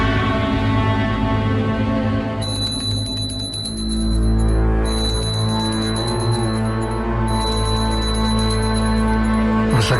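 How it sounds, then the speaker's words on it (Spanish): A small handbell rings in a sustained, shimmering wash of overlapping metallic tones that stays loud and steady throughout, with bright high overtones swelling in and out and no speech. "Por si acaso la campanilla."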